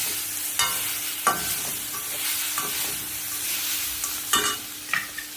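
A spoon scrapes and stirs puran (sweet lentil filling), grated coconut and sugar in a pan, with intermittent close scraping strokes and a faint sizzle underneath, with no talking.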